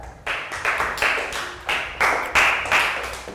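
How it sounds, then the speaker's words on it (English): A classroom of young children in a Year 3 maths lesson breaks into several short bursts of applause, each clatter of clapping starting sharply and fading, close and fairly loud with no talk over it. "And round of applause for everyone for remembering so well."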